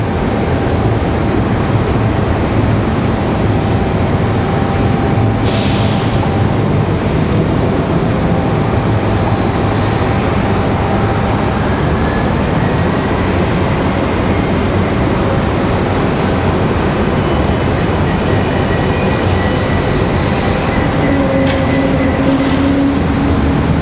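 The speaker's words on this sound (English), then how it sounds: "Hear that Delta A220-100 we had come in from Boston." A Delta Airbus A220-100 jet, in from Boston at Raleigh-Durham International, produces a loud, sustained engine roar with a steady high whine running throughout, close and unbroken.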